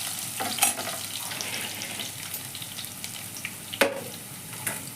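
A potato dropped into hot oil sizzles steadily, a continuous crackling fry broken by a few sharp clinks from stirring in the pan, with no one speaking.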